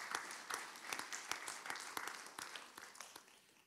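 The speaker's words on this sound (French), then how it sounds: "je pense qu'on peut aussi l'applaudir pour sa présence" Scattered audience applause at a French political conference, thinning and fading over a few seconds; individual claps stand out sharply against a quiet room, with no talking over them.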